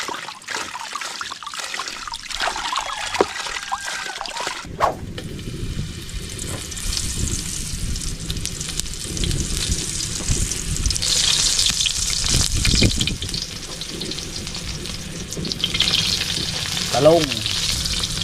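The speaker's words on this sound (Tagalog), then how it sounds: "Pipiritos po natin." Small pieces of food fry in oil in a pan with a loud, steady sizzle. Occasional clatter and stirring sounds come through, and the frying swells and shifts throughout without any speech.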